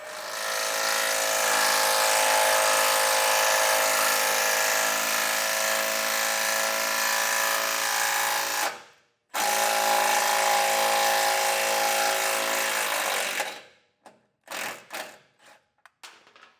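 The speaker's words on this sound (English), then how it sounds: "we're going to take a small drill bit, we're going to drill a pilot hole first." Small drill bit boring a pilot hole for self-tapping bolts while installing an Air Lift WirelessONE compressor system, a steady high whine running close for about nine seconds, a brief stop, then another long run and a few short bursts.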